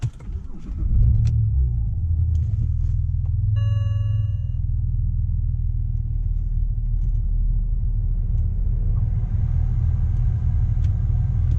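A 2005 BMW 330i E90 with a manual gearbox rumbles steadily as it drives along, low and constant, with a brief beeping chime early on and no talking.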